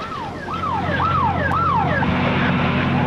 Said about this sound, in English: air raid alert sirens were sounding inside Saudi Arabia